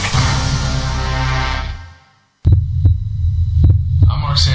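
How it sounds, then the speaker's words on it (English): A human heartbeat, amplified and close, thumping in a steady low double-pulse rhythm after a brief pause, with faint tones and a rising sound near the end. "This is the actual sound of my heartbeat."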